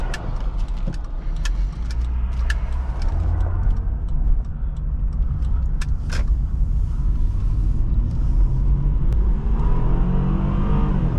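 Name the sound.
car engine while driving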